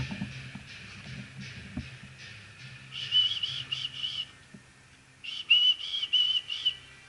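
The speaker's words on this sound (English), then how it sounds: "Trying to whistle and I can't." A person tries to whistle, producing breathy, airy bursts and a couple of short wavering whistled tones in two clusters, fairly close, with faint low background noise.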